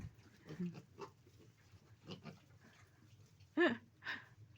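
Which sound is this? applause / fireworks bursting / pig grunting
pig grunting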